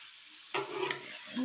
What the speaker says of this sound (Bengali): মাছগুলি দিয়ে দেব, মাছের মাথা হয়ে গেছে। নেড়ে ছেড়ে